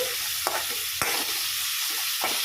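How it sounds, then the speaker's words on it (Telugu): Black garlic, onions and tomatoes frying in a pan for a curry, a soft continuous sizzle close by, broken by a few sharp spatula knocks and scrapes. "ఇదిగోండి నల్ల వెల్లుల్లి వేస్తున్నాను ఇవన్నీ బాగా వేగాకండి"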